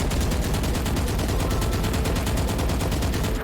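Phantom rifle spraying in the video game Valorant, a continuous rapid stream of loud, close automatic shots in an even rhythm throughout.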